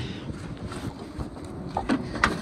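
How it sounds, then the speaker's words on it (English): Wind gusts buffet the microphone outdoors on a freezing winter day beside an RV. The rumble is low and rough and rises and falls, with a few faint clicks and knocks scattered through it. "Oh, it's getting windy"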